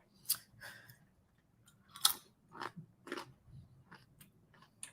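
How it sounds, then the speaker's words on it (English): Close, crisp crunches of chewing a tiny peanut butter filled pretzel, irregular bites and chews spaced over a few seconds in a quiet room. "this is a peanut butter filled pretzel that I'm going to eat. It might sound a little crunchy"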